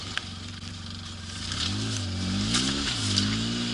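Engine revving in rising and falling surges as a vehicle drifts on a snowy sidewalk during a Denver blizzard, close and fairly loud over a steady idle with light scraping.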